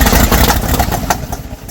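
An old, long-neglected Ford F600 dump truck engine kicking over and catching, with a loud, rough, close chugging and sputtering rumble over a short burst.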